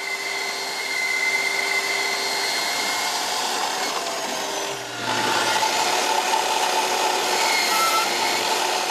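A hand band saw cuts notches into wooden roof rafters in a carpentry shop, a steady continuous rasping whine with a brief dip midway before the cut resumes, loud and close with no talking.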